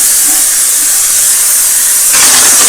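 A steam cleaner hisses steadily inside a kitchen sink as it cleans, a close, continuous jet of rushing steam that grows noticeably louder and harsher toward the end.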